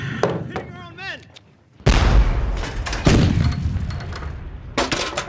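Heavy artillery booms and explosions in a World War I battle scene, a loud blast followed by rolling rumbling impacts and further bursts, with shouting voices at the start.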